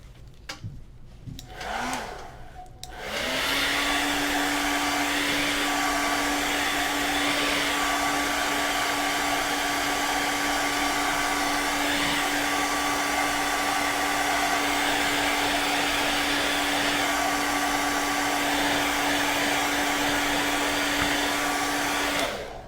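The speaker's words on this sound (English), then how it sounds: "So I'm gonna hit this with my blow dryer" A hair dryer switches on after a few seconds of fumbling and then blows steadily and loudly with a constant whine until the end, drying paint on a stenciled wooden sign.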